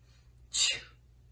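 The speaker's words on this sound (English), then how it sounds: "sneeze" One sharp sneeze, close and sudden, with a brief breathy release before quiet returns.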